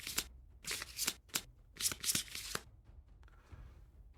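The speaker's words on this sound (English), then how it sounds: "and then we're going to shuffle." A deck of cards is shuffled during a tabletop board game session, several quick riffling bursts close and fairly quiet, with short pauses between them and no talking.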